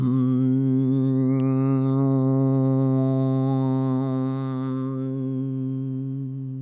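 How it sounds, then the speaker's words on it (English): A single steady hum from a human voice, low and resonant, held continuously for several seconds and gradually softening at the end. "this is just one steady stream of hum"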